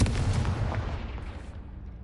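A Confringo blasting spell erupts in Hogwarts Legacy, a loud, close booming explosion whose heavy low rumble and crackle fade steadily over about two seconds, with no voices.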